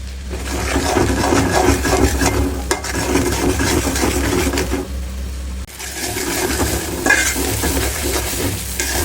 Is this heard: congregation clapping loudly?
no